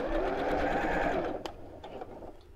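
Sewing machine running steadily along a cushion cover seam, close and fairly quiet, then slowing and stopping with a few small clicks.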